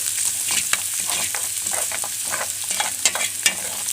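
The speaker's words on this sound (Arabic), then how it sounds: "هنحمر بقى البصله دي ونيجي مع بعض. حطيت فصين توم وعليهم كزبره وهنقلب كده" Onion, two garlic cloves and coriander frying in a pan, stirred briskly, with a dense close sizzle and rapid repeated scraping and clinking strokes.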